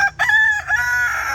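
A rooster crows loudly and close by inside a hen house, one sustained, wavering cock-a-doodle-doo call that fills the short moment.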